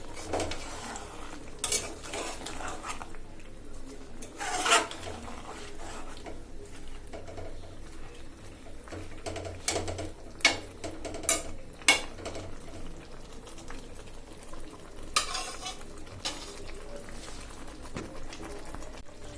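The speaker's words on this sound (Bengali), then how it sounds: "বেগুনগুলোও দিয়ে দিছি বেগুনগুলো ভালোভাবে কষে যাক" Eggplant being stir-fried in a pan for a small-fish and eggplant vegetable dish, with steady scraping and clinking of a utensil against the pan over a low background and a few sharper knocks, plus occasional faint bird calls.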